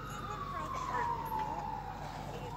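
An ambulance siren wails from a Seymour medic unit responding to a call, a single sustained tone sliding slowly downward as it passes, heard steadily over engine rumble and radio chatter.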